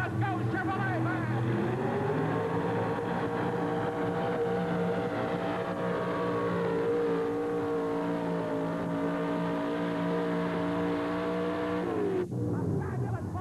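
Chevrolet truck at a 1988 truck pull event in Hampton, hauling a waste transfer sled down the track, its engine roaring loud and steady for about twelve seconds before cutting off abruptly near the end.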